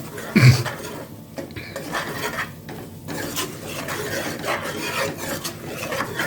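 A spoon scrapes and rubs steadily around a pot as chicken biryani is mixed with curd, a continuous rasping stir that starts with a louder scrape and stays moderately close with no talking.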